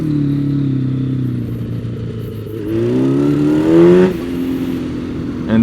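A motorcycle idles with a steady low engine note, then revs and pulls away as the engine pitch climbs, with a louder surge near the end, and no one speaking.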